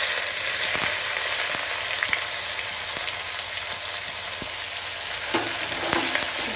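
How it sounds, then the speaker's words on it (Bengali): Two large finely chopped onions fry in a pan to a light golden brown, giving a loud, constant crackling sizzle with scattered utensil clicks and scrapes; nobody talks. "এটাকে আমি হালকা গোল্ডেন ব্রাউন হওয়া পর্যন্ত পেঁয়াজটাকে আমি ভেজে নেব"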